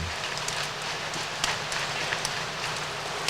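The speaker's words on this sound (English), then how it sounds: "we set off in a soaking down-east rain." Steady heavy rain hisses down continuously by Maine's Machias River, with scattered sharper drops pattering on surfaces nearby and a faint low hum beneath.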